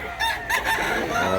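A white, yellow-legged rooster about a year old crows close by at a gamefowl market, a short, loud, ragged call broken into quick bursts with no speech over it.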